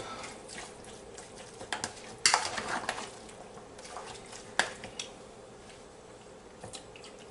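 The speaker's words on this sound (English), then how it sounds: "Let's stir this up." A beef marinade for stir-fried beef with asparagus is stirred in a bowl, making faint, close, wet squelching with a few sharper clicks of the utensil on the bowl, and no talking.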